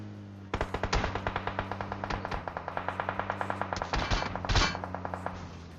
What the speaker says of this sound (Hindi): देखो कहां से गोली चलाता है ये।